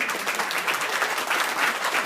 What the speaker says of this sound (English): Let's give these two ladies a big round of applause.